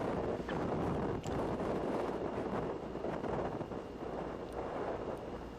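Wind rushes steadily across an outdoor golf course in Wyoming, buffeting the microphone as a continuous broadband roar at low level, with no talk.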